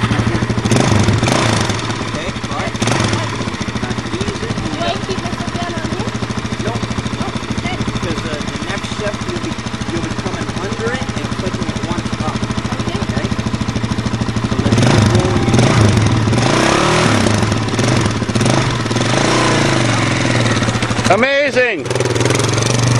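A Suzuki Z400 ATV engine runs steadily as a learner drives it on a farm, a continuous mid-pitched motor drone with a low hum that holds throughout, with people talking over it.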